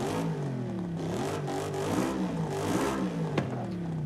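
A car with a sport exhaust revs in Forza Horizon 5, an Audi-style S or RS model with quad or big oval tips, giving a steady, loud engine drone with rising and falling pitch over about four seconds, alone without talk.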